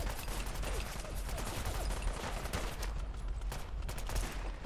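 Dense, continuous gunfire from a firefight in Fallout: London, a steady wash of overlapping shots at moderate loudness with no clear pauses and no talk heard over it.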